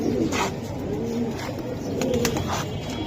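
Silver pigeons coo repeatedly at close range, soft rolling calls with small chirps and clicks and little talk over them.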